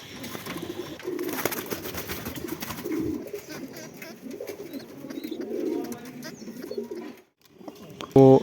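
Pigeons for sale in Kolkata coo in repeated low, throaty bursts at close range, with soft rustling and a sharp bump near the end.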